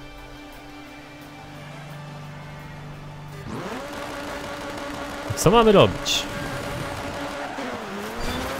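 Rally car engine in the racing game Dirt 3, idling low and then rising into a loud, sustained revving drone with quick pitch sweeps as it accelerates, heard under a voice.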